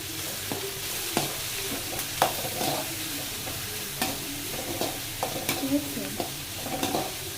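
Small chopped onions sauté in a pan for a capsicum egg gravy, a soft steady sizzle with intermittent spoon scrapes and taps against the pan as they are stirred, close and fairly quiet.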